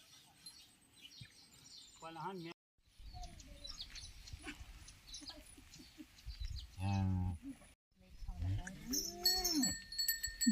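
A Khillar bull tied up for washing and decoration moos several times in long, loud lowing calls, with birds chirping and people talking in the background around it.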